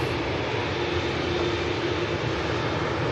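A diverted aircraft from Edinburgh rolls in at Manchester Airport, its engines a steady broad roar at moderate distance with no break across the clip.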